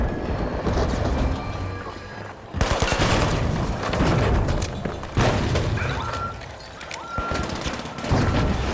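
Gunfire from the video game The Finals: dense, overlapping volleys of shots and booming impacts in near-continuous chaotic bursts, loud throughout with a brief sharp break around the middle.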